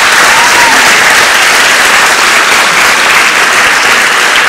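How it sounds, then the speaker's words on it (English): Audience applause fills a live stage show at a book event, a steady, dense round of clapping from a large crowd that holds at full strength throughout with no talk over it. "a round of applause for Mary Richardson Graham"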